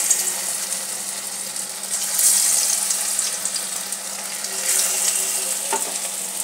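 Chire and suji bora frying in hot oil, a steady close sizzle and crackle that holds throughout with small bursts of popping, no voices.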